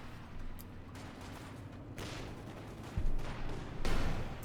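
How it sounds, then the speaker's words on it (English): Booming artillery fire from a Pak 43 anti-tank gun in the video game Company of Heroes 2, several heavy reports over a constant dense battle din, moderately loud. "Artillery fire there in the Pack 43."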